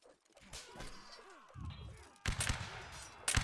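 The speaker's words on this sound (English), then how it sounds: "Keep firing at will, gentlemen." Musket volleys in a Napoleonic Wars video game, fired at will as ragged, overlapping bangs and crackling shots, with a dense burst of firing near the end over faint background chatter.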